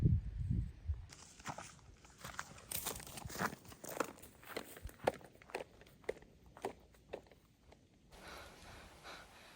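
Footsteps heading down a forest trail toward a stream in the hills, an uneven run of crunching and rustling steps close by over soft leaves and brush, with some breathing and no speech.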